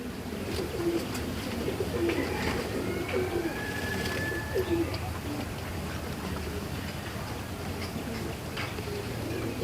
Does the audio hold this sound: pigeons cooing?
yes